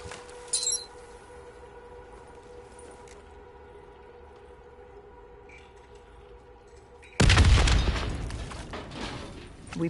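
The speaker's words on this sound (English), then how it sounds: "The explosion blocked our path." A loud explosion bursts in Call of Duty Black Ops 3 Zombies campaign, a sudden broadband blast about seven seconds in that rumbles and slowly decays after a quieter stretch of game ambience and a brief earlier burst.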